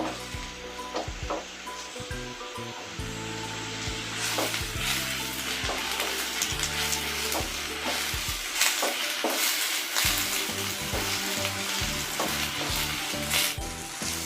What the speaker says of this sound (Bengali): এখন পেঁয়াজগুলোকে হালকা ভেজে নিতে হবে।